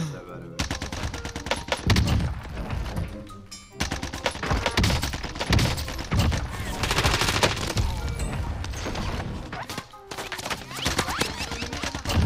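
Galil assault rifle fire in the Warzone video game rattles in dense rapid bursts almost without pause, loud and close, with excited shouting mixed in.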